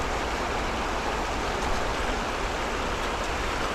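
A river swollen by continuous rain rushes past in a dense, unbroken roar of water, loud and close, with no voices.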